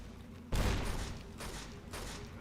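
A grenade blast and gunfire in the video game Fallout: New Vegas, with a sudden heavy boom that rumbles on, followed by two further bursts of loud, noisy fire.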